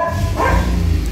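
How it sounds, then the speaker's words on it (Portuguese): A neighbours' dog barks a few times at some distance, with a low steady background hum underneath and no talking. "Cachorro dos vizinhos, gente."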